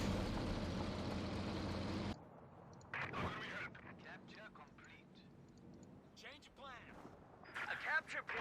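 Distant tank cannon fire and explosions in Company of Heroes 2, an M26 Pershing shelling German grenadiers; dull booms and impacts come intermittently under a commentator's voice after a louder rumbling opening.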